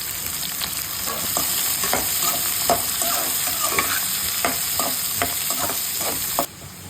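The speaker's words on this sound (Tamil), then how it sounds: "பூண்டு நல்லா வதக்கிக்கோங்க. அதுக்கப்புறம் அதில் நம்ம கட் பண்ணி வச்ச சின்ன வெங்காயம், அதுக்கப்புறம் பெரிய வெங்காயமும் ஆட் பண்ணிக்கோங்க." Garlic with small and large onions sautéing in a pan for vendakkai kara kuzhambu, a loud continuous sizzle broken by frequent quick spatula scrapes and clinks, close up with no voices.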